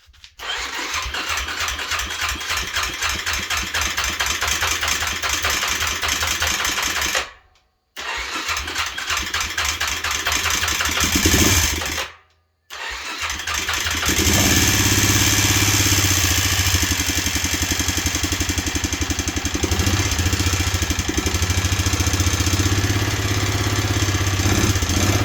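A 2009 Suzuki Quadrunner 400 4x4 ATV engine cranking and catching, with two short breaks, then settling into a loud, rough, steady running idle close to the microphone.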